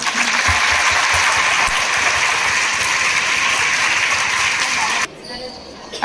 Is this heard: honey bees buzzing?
no